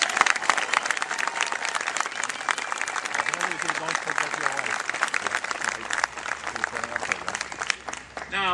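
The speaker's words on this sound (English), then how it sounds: "Please give him a round of applause." Audience applause at a Serbian Cultural Garden donor thank-you event, a dense sustained clapping from a crowd lasting over eight seconds, loud and steady with no talk over it.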